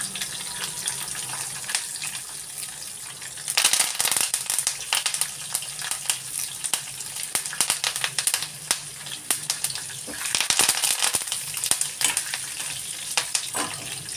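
Dry red chillies, green chillies and curry leaves fry in hot oil, a loud close crackling sizzle that runs throughout, with bursts of spattering and stirring clatter at intervals.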